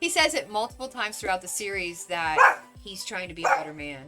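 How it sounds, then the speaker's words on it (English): A dog barks several times in short, sharp bursts, spaced irregularly and mixed in with someone talking over them at close range. "That's a dog."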